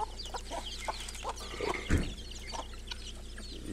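Free-range indigenous-breed chickens on a farm in Águas Claras, Mato Grosso do Sul, cluck softly and intermittently nearby, with a louder thump or flutter midway and low outdoor ambience throughout.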